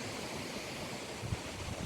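Wind and waves on a bay while sailing, with whitecaps coming in and waves about half a meter tall; a steady, loud rush of wind and water fills the whole stretch, with a brief splash or bump near the end.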